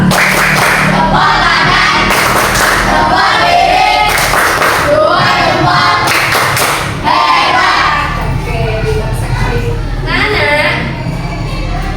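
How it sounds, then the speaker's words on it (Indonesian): A class of children does the thumb clap in rhythm, loud and close, with repeated bursts of clapping mixed with the children's voices and room noise throughout. "Yuk kita tepuk jempol untuk diri kalian semua karena anak-anak sudah hebat, pintar dan pandai"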